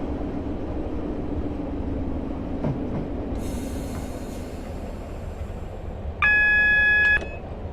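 A Class 156 diesel multiple unit rumbles steadily along in Train Simulator 2016 on the Great Eastern Main Line, with a loud sustained beeping tone sounding near the end.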